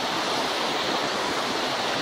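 Pala-U waterfall pouring in a steady, dense roar of rushing water, close and loud, with no break across the short stretch.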